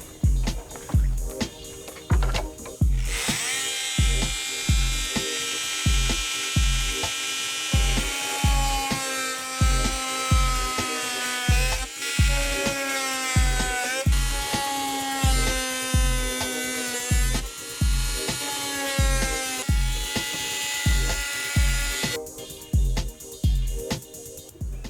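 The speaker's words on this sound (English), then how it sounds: "I'm going to do it with the multi-tool, and I hope I can do this precise enough." Oscillating multi-tool cutting veneer aboard a sailboat, a steady high-pitched buzzing whine running through most of the stretch, interrupted by short rhythmic bursts and pauses at the start and end.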